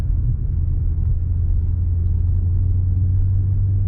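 Inside a BMW M5 fitted with an AWE Track exhaust, a steady low engine drone and road rumble fill the cabin at cruising speed, constant and fairly loud, with no talk.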